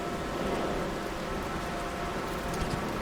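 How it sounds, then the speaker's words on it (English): Steady rain pours down in the video game No Man's Sky, a dense, even hiss of droplets spanning the whole stretch at moderate loudness, with no voices over it. "my multi-tool is wet of the rain"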